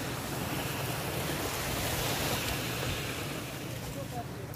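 Surf rolls in at high tide on a beach at Marina di Vecchiano near Pisa, Italy, a steady near wash of waves with wind buffeting the microphone and no clear breaks.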